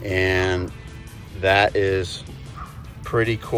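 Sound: dog barking in the background

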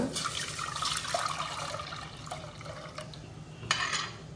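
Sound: pouring tamarind water into pan

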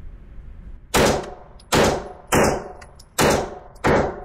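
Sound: gunshots from Smith & Wesson SD9 pistol at 7 yards

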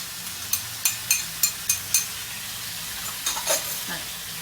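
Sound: stir-frying squid with basil and chilies in a pan

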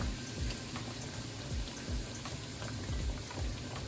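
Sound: pork belly frying in oil with fish sauce

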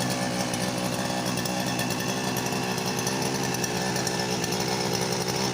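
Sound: grass trimmer petrol engine pull-started after spark plug change

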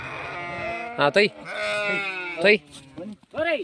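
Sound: sheep bleating

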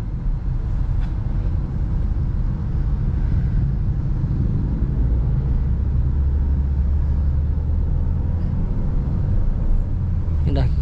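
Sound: car engine accelerating as driver adds gas

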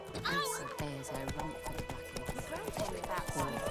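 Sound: horse galloping, from a video game

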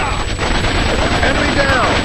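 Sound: enemy gunfire in the video game Raven Squad

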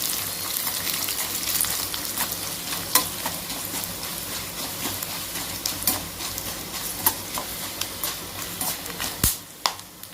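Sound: dried red chillies frying in a pan

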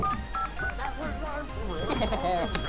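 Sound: phone dialing to call neighbor in Hello Neighbor video game

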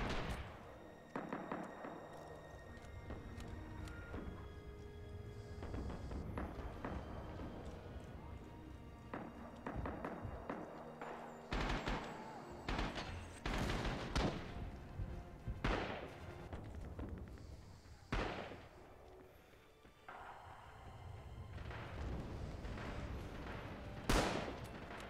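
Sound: mortar explosions from the video game Red Orchestra: Rising Storm

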